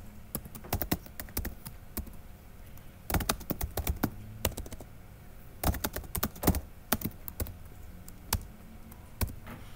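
Computer keyboard typing in bursts of rapid key clicks separated by short pauses, recorded up close while code is entered into an editor; no voices.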